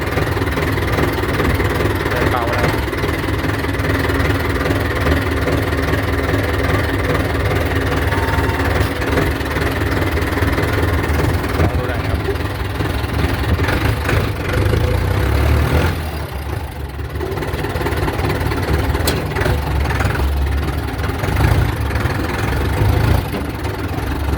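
A Ford 6600 farm tractor engine idles steadily and loudly close by, with a deep, even rumble and vibration that holds throughout without revving.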